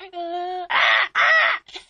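A person's voice imitates a crow: a short sustained vocal tone followed by two loud, harsh, raspy caws in quick succession, close to the microphone.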